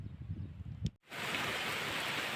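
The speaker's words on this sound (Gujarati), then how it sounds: "બહુ જોરદાર વરસાદ છે" Heavy rain pours down during a thunderstorm, arriving as a dense, steady, loud roar after a brief low rumble and a short near-silent gap.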